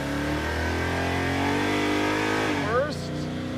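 The Roadkill Garage Crusher Impala's engine roars loud and close, rising steadily then dropping sharply as the transmission shifts, with a brief voice near the end.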